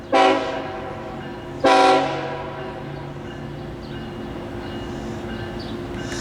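CSX M 317 manifest freight train running slowly down the street in St. Marys, West Virginia, sounding two loud horn blasts near 0.2 and 1.7 seconds, each fading into a steady low rumble of the moving train.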